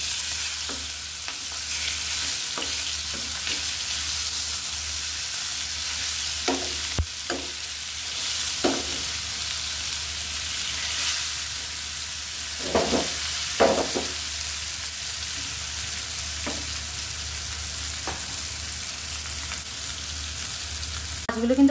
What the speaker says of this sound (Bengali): দুই পিঠি আমি ভালো করে ভেজে নিব।